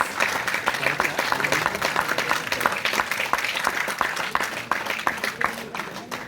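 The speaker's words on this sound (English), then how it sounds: "Please welcome him with a big round of applause." An audience at an international physical education conference in Srinagar, India, applauds a college principal being welcomed, a steady, close round of many hands clapping that holds for several seconds and then thins slightly.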